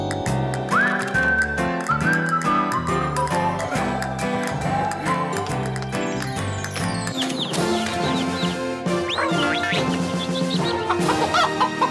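Cartoon farm chickens cluck over a busy orchestral music score, their clucks loud and close, with whistle-like tones and no speech.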